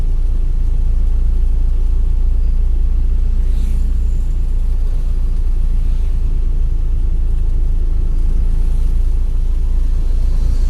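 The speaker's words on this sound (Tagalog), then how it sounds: "Moderate ang traffic mga igala, moderate lang." Moderate Sunday morning road traffic in Iligan City heard from inside or beside a moving vehicle, a loud, continuous low engine rumble and road noise with no talking.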